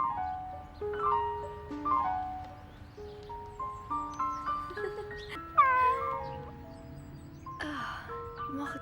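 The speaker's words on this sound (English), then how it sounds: "playing with her cat Mortje." A cat meows several times in an anime film about Anne Frank, the calls rising and falling over a soft background music score with sustained tones.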